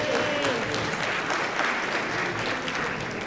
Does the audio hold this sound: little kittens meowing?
no